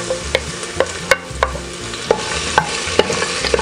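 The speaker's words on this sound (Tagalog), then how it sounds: "simulan na po natin igisa itong ating bawang" Garlic sautéing in hot cooking oil. A steady sizzle runs under repeated sharp spatula scrapes against the pan, close and loud, spaced about every half second, with no voices.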